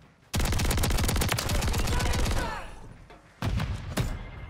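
The Haymaker shotgun in Modern Warfare 3 fires a loud, rapid burst of closely spaced booming shots that lasts about two seconds, then fades, followed by a second short burst of blasts.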